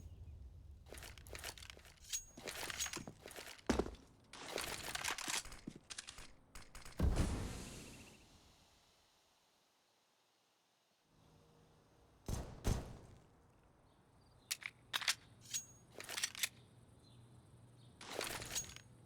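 Glock pistol spammed in a professional Counter-Strike match, heard as rapid clusters of sharp, close shots in uneven bursts, with a quiet stretch in the middle before the firing resumes.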